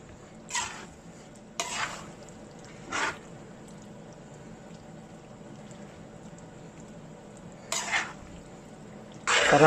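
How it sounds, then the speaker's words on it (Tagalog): A spoon scrapes slowly through pork dinuguan in a pot, five short separate scraping strokes over a quiet low simmer, close and without talk. "Huwag nating tigilan na haluin na dahan-dahan para hindi mag-burn yung ilalim."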